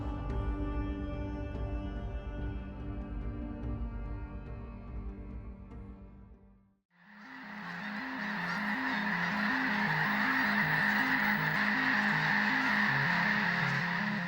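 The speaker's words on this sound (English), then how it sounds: "The Squaw Creek National Wildlife Refuge is a crucial stopover point for migrating birds, especially snow geese." A huge migrating flock of snow geese at the Squaw Creek National Wildlife Refuge bursts into a dense, loud, continuous chorus of overlapping honks midway through, after a sustained tonal passage that ends in a brief lull.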